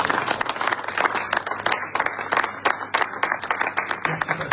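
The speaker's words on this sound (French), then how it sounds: "Est-ce qu'on peut acclamer pour la gloire de Dieu?" A church congregation at an Easter prayer vigil bursts into applause, a dense wash of many hands clapping steadily for several seconds, with cheering voices mixed through it.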